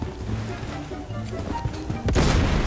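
Sniper rifle shots in the shooter game Bloodstrike, sharp booming reports with a loud crack near the end, mixed with other game noise and a voice talking.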